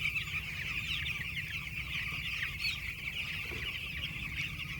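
Young eight-day-old chicks on a poultry farm, a steady dense chorus of high peeping and cheeping that carries on throughout over a low mechanical hum.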